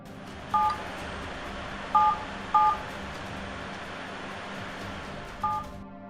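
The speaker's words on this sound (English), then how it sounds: "dialing a completely different number followed by 2 sevens and an asterisk" A phone dials a number on its own, with several separate electronic DTMF key tones beeping at uneven intervals over a low background hiss, no talking.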